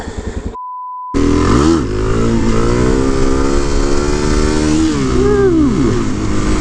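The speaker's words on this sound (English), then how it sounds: "gotta let this thing warm up a little bit." Suzuki DRZ dirt bike engine running steadily while warming up, a loud close continuous single-cylinder drone with a short gap near the start and a few brief revs toward the end.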